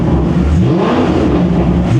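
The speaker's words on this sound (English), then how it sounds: "We have no exhaust on the SLS." Mercedes SLS engine with no exhaust fitted, revving steadily in a continuous loud, raw drone that swells slightly without pausing.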